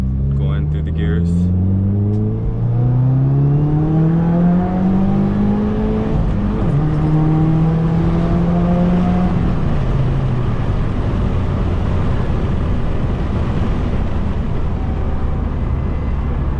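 Subaru WRX engine revs up and drops repeatedly while shifting through the gears, a loud steady rising drone heard from inside the car with each gear change, with talk over it.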